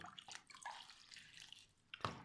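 Water is poured onto the roots of a mounted plant, making faint splashing and dripping bursts with a brief louder splash at the end, close by and with no talking.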